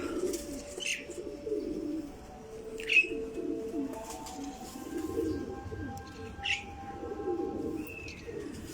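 Teddy pigeons cooing repeatedly in soft, low rolling phrases, with a few faint chirps and tweets from nearby birds over a steady background.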